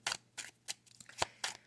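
A deck of playing cards is shuffled by hand in about five quick, crisp riffling bursts, close up and alone.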